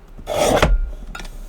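Paper card mat for handmade birthday cards being trimmed, one loud, close rasping slide of about half a second, followed by a fainter short scrape.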